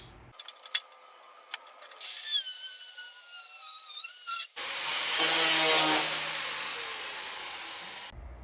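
A saw cuts a piece to length in a workshop while a spray booth is being built: a few sharp knocks first, then a steady, loud buzzing cut of several seconds, a second pass, and the tool spinning down.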